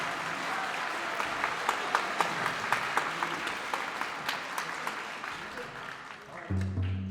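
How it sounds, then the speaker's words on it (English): An audience at a school district honor bands concert claps in a moderate, somewhat distant wash with a few sharper individual claps standing out, tapering slightly before a low hum and rustle of setup near the end. "please give him a big round of applause"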